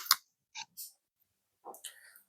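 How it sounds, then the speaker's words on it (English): 180 mm KCTool pliers cut through Romex electrical cable with a few short, sharp snipping clicks spread over about two seconds, clear and close with quiet pauses between. "these 180 millimeters pliers shine is that they can actually cut Romex the whole way through"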